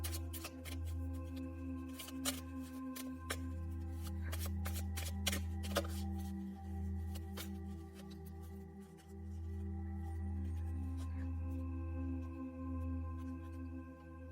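Reading cards are shuffled by hand in a steady run of soft riffling flicks and snaps, close and quiet over a faint steady hum, with no one speaking.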